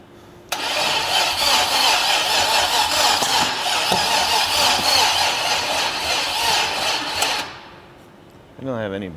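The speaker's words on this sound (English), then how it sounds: "I guess it's a hope and a prayer that this baby fires up and runs like it's supposed to." A Buick Straight 8 engine on a test stand, fuelled through the carburetor, cranks and catches, then runs roughly for several seconds before cutting off abruptly, with a voice briefly heard at the end.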